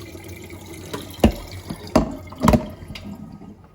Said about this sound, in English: So when I pour the water off